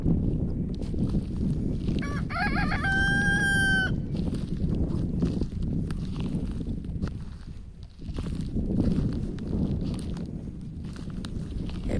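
A rooster crows once, loud and clear, over a steady outdoor farm hum of wind and scuffling, with chickens moving about in the background.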